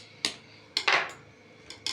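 A utensil stirs fruit cake batter in a bowl, giving a few sharp scrapes and clinks against the bowl with quiet pauses between, close and clear with no talk.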